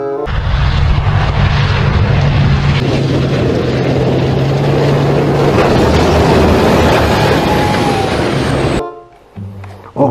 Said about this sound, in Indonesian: Wih, ini namanya pesawat terbang.